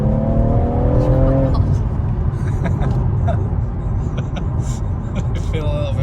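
A BMW M140i with a stage 1 map accelerates hard, its engine rising in pitch over a loud, steady road and cabin rumble, with voices talking inside the car.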